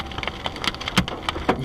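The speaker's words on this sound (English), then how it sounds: "The hail starts coming louder and more rapidly." Hailstones strike a car windshield during a storm in rapid, irregular hard taps and cracks, loud and close, coming in scattered bursts with no voices.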